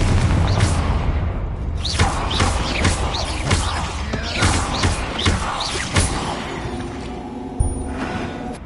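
Confringo, an explosive spell in Hogwarts Legacy, bursts in rapid repeated booms and thuds over a dense, loud game battle din, alone with no talk.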